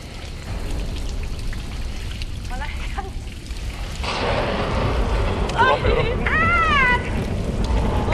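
Heavy rain pours steadily in the Big Brother Türkiye house, its broadband roar swelling louder midway with a deep rumbling wash, while voices speak briefly over it.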